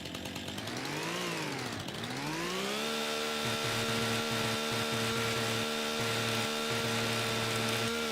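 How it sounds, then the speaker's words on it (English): A modded chainsaw in the farming video game Farming Simulator 25 revs up and dips, then runs steadily at high speed with a loud, buzzing whine and a pulsing low chatter as it cuts trees, with no talk. "This is my modded chainsaw, by the way."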